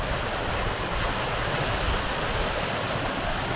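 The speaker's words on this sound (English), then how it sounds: "There's been so many waterfalls as well." A rain-swollen waterfall cascades down a Scottish Highland hillside, producing a dense, constant roar of rushing water at close range with no other sounds.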